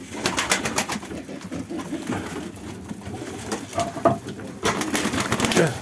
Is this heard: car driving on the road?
no